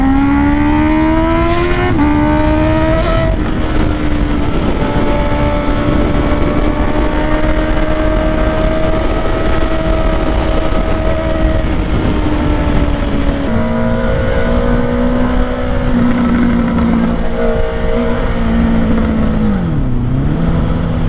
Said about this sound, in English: I didn't want the freaking exhaust to pop like that.